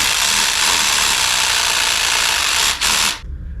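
A one-hand variable-speed Sawzall reciprocating saw runs at about 3,100 strokes per minute, giving a loud, steady buzzing drone that cuts off abruptly near the end.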